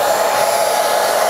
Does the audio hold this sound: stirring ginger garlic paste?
no